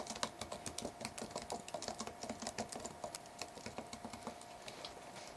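Steady, brisk typing on a computer keyboard, with even rapid keystrokes close and clear throughout, no voices.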